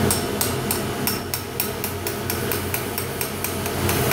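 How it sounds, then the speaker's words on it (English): A small hammer taps a cold rail spike on an anvil in a steady series of sharp ringing metallic strikes, close and clear with no talk. "Couple taps with a small hammer."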